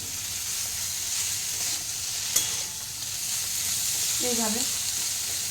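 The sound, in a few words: ginger frying in a pan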